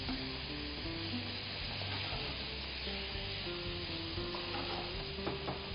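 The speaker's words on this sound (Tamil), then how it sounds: "ஸோ இப்போ நம்ம மசாலா கிரேவி கூட போடுறோம் பார்த்தீங்களா" Mutton being stirred into masala gravy in a pan for palak mutton gravy, with a steady close sizzle and scraping stirs over a low musical hum, no talk.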